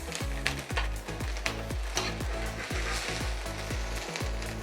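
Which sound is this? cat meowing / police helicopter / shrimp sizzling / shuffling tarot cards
shrimp sizzling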